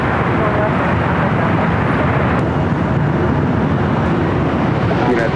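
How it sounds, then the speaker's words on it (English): Airbus A380 rolling on the runway at LAX, a loud, continuous broadband jet roar with no breaks, steady and close enough to fill the whole stretch. "The A380 is rolling"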